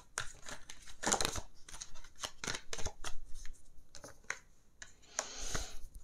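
Tarot cards being drawn and handled during a reading, with quick, crisp flicks and slides of card stock in irregular bursts, close and fairly quiet, with no talk.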